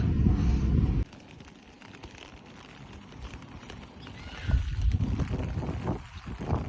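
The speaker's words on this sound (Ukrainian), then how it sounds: "Вітер сильний." Strong wind with rain buffets the microphone in heavy low rumbling gusts, loudest at the start and surging again later, with no one speaking.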